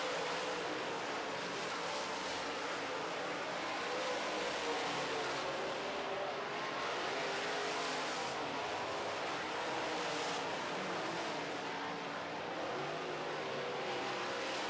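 Modified race cars run heat races on a racetrack, with engines blending into a continuous, distant roar at a steady level and gentle swells as they circle.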